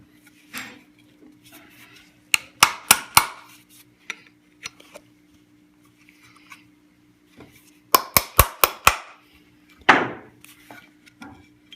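Two sharp bursts of rapid metallic hammer taps ring out as a knockout is punched from a metal electrical box, separated by quieter knocks and shuffling, with no voices.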